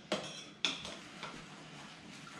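Utensils clink and scrape against a bowl while a meatball mixture for air-fryer Italian meatballs is stirred, with two sharp knocks early, then quieter mixing sounds up close and no talking.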